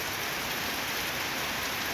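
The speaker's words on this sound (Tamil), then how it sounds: "நல்ல மழை." Heavy rain pours down steadily in a dense, even hiss with no break, loud and close, with no voices over it.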